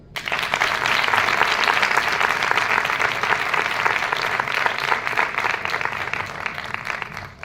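Steady, full audience applause fills a hall at an ex-alcoholics association gathering in Fuenlabrada, a dense sustained patter of many hands that rises quickly and holds, tapering slightly near the end.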